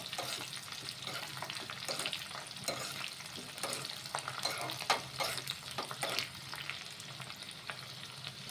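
Green chillies, mustard seeds and cumin fry in hot oil, giving a soft, steady sizzle with scattered pops and stirring scrapes, fairly quiet and close.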